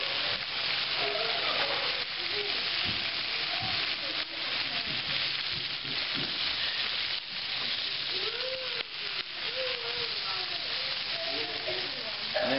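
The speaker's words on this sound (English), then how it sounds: "So I added some onions" Onions frying in bacon grease in a pan after pork chops were browned, making a continuous close sizzle with frequent scraping stirs and faint voices underneath.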